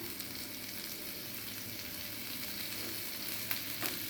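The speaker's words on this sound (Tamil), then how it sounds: "டவா ஹீட் ஆயிடுச்சு. அதில் நம்ம பட்டர் சேர்த்திருக்கோம்." Butter sizzles on a hot tawa for pav bhaji, a steady close crackling hiss that holds evenly throughout with a couple of brief sharper pops near the end.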